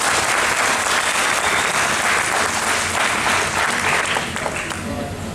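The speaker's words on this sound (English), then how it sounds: "Can we get a round of applause?" Audience applauding at a glassblowing demonstration at the Corning Museum of Glass, a loud, dense burst of clapping sustained for several seconds before slowly thinning out.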